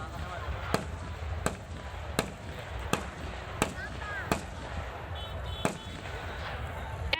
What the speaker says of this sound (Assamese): পুলিচৰ গুলী চালনা কৰাৰ ট্ৰেইনিং শুনিলে গুলীৰ শব্দ